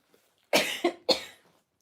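Three quick coughs close to the microphone, the first the strongest, then a softer pair, with silence before and after.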